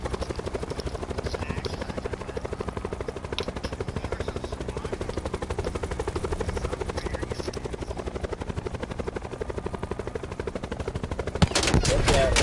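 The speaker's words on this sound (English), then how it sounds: "Hey, there's our helicopter." Helicopter flying in a video game, its steady rotor thump filling the scene alongside bursts of gunfire, with a louder burst near the end.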